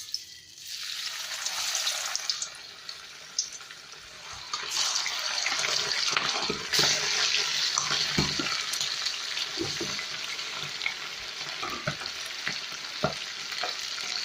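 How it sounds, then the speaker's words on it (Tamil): Homemade broasted chicken drops into hot oil and deep fries with a loud, bubbling, continuous sizzle that swells after a quieter start and holds steady, crackling up close without any talking. "இப்போ நம்ம இதில் இந்த சிக்கனுடைய ப்ரோஸ்டட் ஹோம்லி ப்ரோஸ்டடை ஃப்ரை பண்ணி எடுக்கலாம்."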